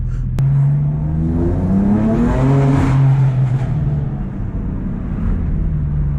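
A Stage 3 BMW M4 accelerates hard at night, heard close and loud from inside. The engine note climbs steeply in pitch, then settles into a lower drone after an upshift, with no voices.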